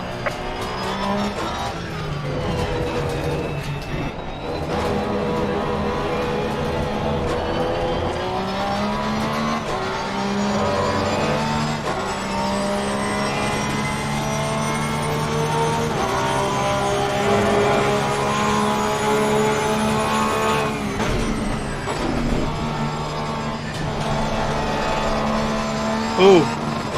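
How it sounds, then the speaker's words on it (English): A pack of faster GT race cars in Assetto Corsa Competizione approaches, a steady loud engine drone with gear changes and swelling pitch across the whole stretch, voices speaking over it. "Faster cars approaching."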